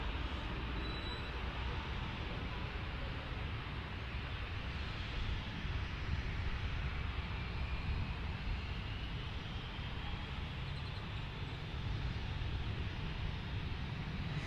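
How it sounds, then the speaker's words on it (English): An Airbus A321 at Dallas Fort Worth airport, a steady distant jet roar that holds evenly throughout with no talk over it. "It looks like we've got that A321 is headed to Salt Lake City"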